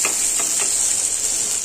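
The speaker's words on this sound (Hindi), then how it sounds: "अभी से मैं प्याज ऐड कर रही हूँ" Onion hits hot oil seasoned with panch phoron, giving a loud, continuous sizzle with a few soft stirring scrapes near the start.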